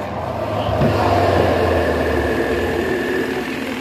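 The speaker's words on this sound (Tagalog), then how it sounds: "Bagong-bago na ulit yung ikot niya. Kasi bago nga yung ating pinalit na spin dryer motor." A washing machine's newly replaced spin dryer motor hums steadily at speed, a smooth continuous low whir with a brief rise in pitch and a faint mechanical rattle, close and alone.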